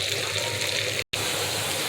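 Water poured into a pan of frying garlic, coriander and cumin paste, giving a loud continuous gushing hiss with a brief dropout midway.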